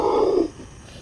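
A tiger gives a short, low rumbling growl lasting about half a second before fading into near quiet, heard outdoors in the Pasundan region of West Java.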